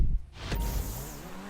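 An Itali GTB supercar in GTA V pulls away from a standstill, with a short whooshing burst followed by a rising engine note that climbs loudly over about a second.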